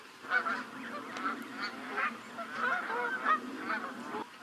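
Geese honk repeatedly in a loose, overlapping chorus, fairly close and steady throughout, with no voices.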